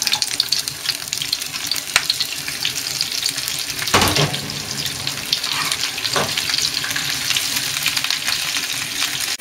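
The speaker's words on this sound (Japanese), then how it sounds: "キャベツをアホのように炒めます" Cabbage stir-fried in a pan, a loud steady sizzle with clanks and scrapes of a utensil stirring, alone with no talk.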